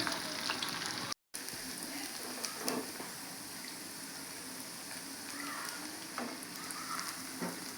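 Cauliflower 65 pieces fry slowly in hot oil over low heat, giving a steady, soft sizzle and bubbling hiss that runs continuously with a brief dropout near the start; no voices.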